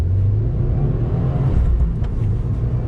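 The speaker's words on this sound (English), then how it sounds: "I want to do acceleration from a dead stop" A 2020 Subaru WRX Performance Package pulls away hard from a standstill, its engine note a loud, steady low rumble with a slight rise in pitch as it builds speed, close up inside the car.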